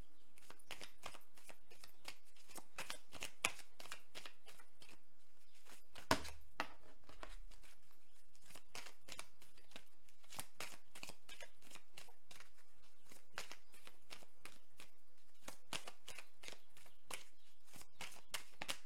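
Oracle cards shuffled and laid out by hand, a steady run of soft papery riffles and taps that stays close and fairly quiet, with no talking.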